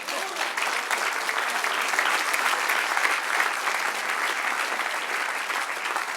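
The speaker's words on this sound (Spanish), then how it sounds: "denle un aplauso al Señor." A church congregation at a Spanish-language service breaks into loud, sustained applause, a thick continuous wash of many hands clapping with faint voices mixed in.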